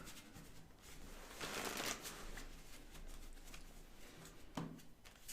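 A deck of cards is shuffled during a live magic product launch show, giving soft riffling bursts that are faint and close by, with no voices heard.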